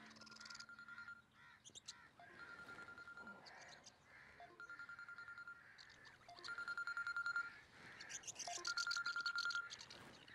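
Phone ringing with an incoming call, repeated electronic ringtone bursts with short melodic tones in a steady rhythm, faint and close, with no talking.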